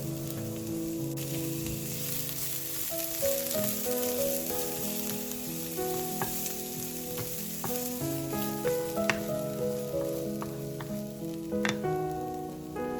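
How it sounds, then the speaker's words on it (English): Red onions and garlic frying in oil in a pan, with a steady, dense sizzle and crackle. Occasional stirring is heard, and there is no talking. "So we first start off with the red onions and garlic. We throw that into the oil, let it brown for a bit"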